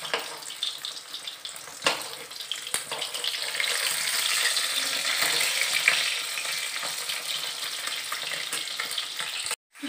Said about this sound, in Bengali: কড়াই অলরেডি ভাজতেও দিয়ে দিয়েছি মাছটা, যে প্রায় ভাজা হয়েই গেছে